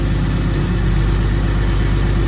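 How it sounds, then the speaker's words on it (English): A diesel engine with a fuel heater idles close by, a loud, steady low rumble with a dense throbbing pulse that holds evenly throughout, with no voices over it. "I'm going to let this just idle for a few minutes"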